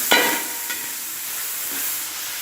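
Sliced onions frying in a pan for chicken curry, a steady close sizzle and hiss with a sharp clink of a utensil at the start.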